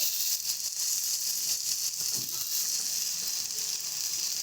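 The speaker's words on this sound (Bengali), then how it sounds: "সমস্তটা পেঁয়াজের সাথে মিশিয়ে মশলাটাকে ভালো মতন কষিয়ে নেব" Spice paste with onions and salt sizzling in a pan for a mustard-paste bhola fish curry, a steady, close, bright hiss that holds evenly throughout with no talking.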